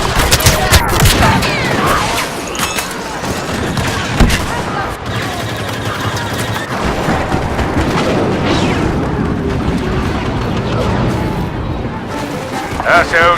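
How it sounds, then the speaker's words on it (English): Rebel Y-wing attack run in the Star Wars Battlefront video game: dense, loud gunfire and booming explosions layered continuously, with a voice heard among the battle noise. "Rebel Y-Wings are making their attack run."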